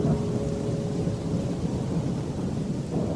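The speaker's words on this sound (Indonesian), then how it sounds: "Gemuruh petir sudah mulai terdengar." Deep rolling thunder rumbles steadily through a thunderstorm, with the hiss of rain underneath, loud and continuous with no voices.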